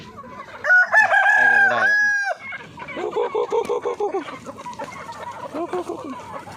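A rooster crows loudly and close by, then chickens cluck in a quick repeating run in a backyard farm, with a person speaking briefly.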